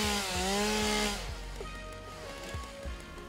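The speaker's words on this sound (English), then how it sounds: "Can I chainsaw this from all the way up here?" A chainsaw cuts in the video game Satisfactory, its loud, buzzing engine roaring steadily with shifting pitch. No one talks.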